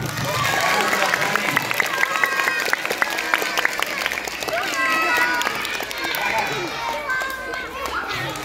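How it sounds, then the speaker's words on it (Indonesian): Schoolchildren at an anti-bullying session in a madrasa classroom clap together in a sustained, dense round of applause mixed with crowd noise and chatter, steady and fairly loud throughout. "Beri tepuk tangan untuk Cua"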